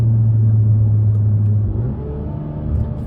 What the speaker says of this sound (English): I'm trying to downshift into 30 just to really get the RPMs up.